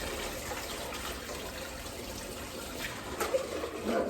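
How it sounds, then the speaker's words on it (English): Hot water running from a kitchen tap into a dish in the sink, a steady gushing and splashing flow that swells slightly louder near the end. "I want to put the hot water in this and just give it a little soak"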